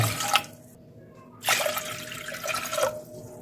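Three glassfuls of water are poured one after another into a thick-bottomed pot, each a close, splashy gush separated by short quiet gaps.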